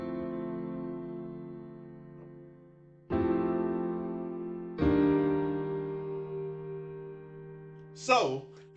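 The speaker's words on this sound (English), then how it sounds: "I'm going to show you guys the tactic that I use to mix any piano to get this atmospheric sound like this." Atmospheric grand piano mixed in Ableton Live, sustained chords ringing with long reverb tails, a fresh chord struck around three and five seconds, and a brief swooping effect near the end; moderately quiet, no talking.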